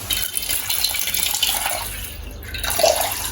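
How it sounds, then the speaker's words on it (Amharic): Tap water runs steadily into a container in a home kitchen for a pizza sauce, a continuous close splashing rush over a few seconds with a brief gurgle near the end. "ለሶሲያችን የሚሆን ውሃ"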